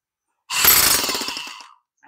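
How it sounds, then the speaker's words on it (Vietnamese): A used 230V electric demolition hammer with a chisel bit, about 90% condition, bursts into loud rapid hammering for just over a second, close and harsh, then cuts off into silence. "Má nó đục mạnh lạnh lùng."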